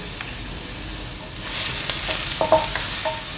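Thin slices of ginger and chopped garlic fry in hot oil for a Chinese seafood claypot, making a close, crackly sizzle that swells halfway through, with a few light clinks of a utensil on the pan and no voices.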